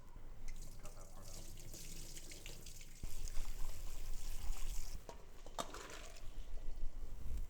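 Water runs into a bowl as freshly cut thin fries for steak frites are rinsed, a steady splashing stream that grows louder partway through, with a brief clatter near the end.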